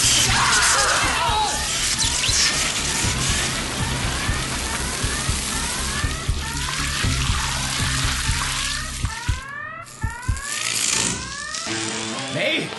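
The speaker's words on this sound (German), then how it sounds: "Es kommt Wasser aus dem Serverraum." Water gushing and splashing out of a flooded ship's server room, a loud rushing spray with scattered clatters and knocks, mixed with tense shouting voices.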